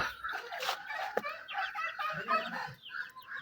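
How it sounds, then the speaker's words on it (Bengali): Chickens cluck and chatter nearby in a busy, overlapping flurry of short calls, with no other sounds standing out. "এই যে এখানে কয়েকটা মুরগি আছে"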